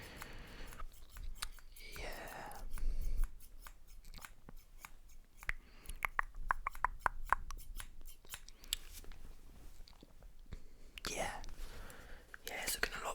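Scissors snipping hair in an ASMR haircut, a run of crisp, sharp clicks in close, quiet repetition, some clustered, set against soft whispering and gentle handling noise.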